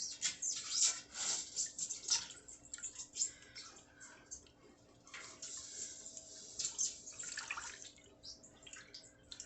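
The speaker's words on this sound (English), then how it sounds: "I'm going to use my hand to mix, just to make sure all the powder is dissolved." A hand swishes and stirs dye powder into water, producing a continuous close sloshing and splashing that rises and falls in waves, with no voice over it.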